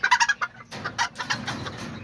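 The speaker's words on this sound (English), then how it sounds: "my little Azteca rooster right there" Azteca chickens, a rooster and hen, call in a yard with a quick run of sharp, loud clucks followed by quieter, scattered clucking and squawks close by.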